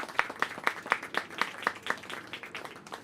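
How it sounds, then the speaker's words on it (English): A small group applauding at a New York City small business announcement with the mayor, a few distinct sharp claps in a regular rhythm over a thinner patter of clapping, fairly close and moderate in level. "a round of applause?"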